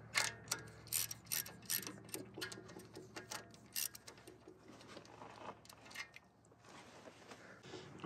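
Rocker arm bolts on a Subaru Sambar EN07 engine tightened with a ratchet, a quiet run of rapid clicking pawl ticks in short bursts, close by, with no talk.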